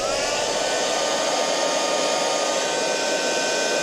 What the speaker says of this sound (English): And then I have my heat gun, which I'm going to turn on